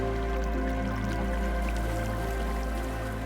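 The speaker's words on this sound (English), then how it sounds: "seeing a waterfall with a stream like this gurgling through" Water from a stream gurgles and drips by a waterfall at Ein Gedi in the Judean wilderness, a steady close wash with low rumble and scattered drips, no voices.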